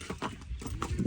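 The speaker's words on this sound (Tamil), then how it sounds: "குதிரையோட நடக்கிற வீடியோ பார்த்துக்க." Hooves of a horse walking freely around its new stable clip-clop in a steady, close rhythm of several distinct strikes, with no talk over them.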